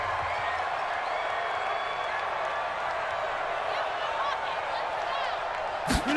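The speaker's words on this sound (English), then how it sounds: "the crowd getting into it as we come up on a big 3rd down" Stadium crowd noise from the Madden NFL 20 football video game, a steady dense roar of cheering fans building ahead of a big third down, continuous and full throughout with a brief sharp burst near the end.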